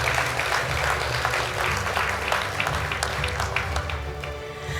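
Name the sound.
audience applause at an awards ceremony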